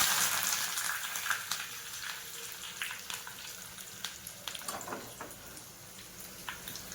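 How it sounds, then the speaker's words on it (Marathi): Mustard seeds, cumin, asafoetida and curry leaves sizzle in hot oil for a tempering, with soft crackling and scattered small pops that carry on quietly throughout. "1 चमचा मोहरी घातली आहे. जिरं घातले 1 चमचा. हिंग घालते 1 चमचा आणि भरपूर असा कढीपत्ता."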